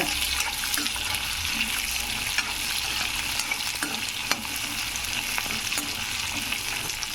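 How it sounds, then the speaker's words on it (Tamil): Sambar onions, small shallots, sauté in hot oil in a pan, giving a steady, dense sizzle with occasional stirring scrapes and light clicks throughout; no one speaks. "சாம்பார் வெங்காயம் போட்டு வதக்கி எடுத்துக்கோங்க"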